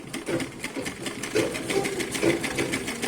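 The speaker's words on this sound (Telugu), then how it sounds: "ఇలా స్లోగా స్టిచ్ చేసుకోవాలండి చూసుకుని." A sewing machine stitches a cross-cut blouse with a fast, even mechanical clatter of needle strokes, close and steady, with no voices.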